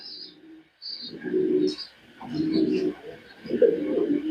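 A male pigeon, kept with a female, gives close, low, rolling coos in three repeated bursts, with a few faint higher chirps around them.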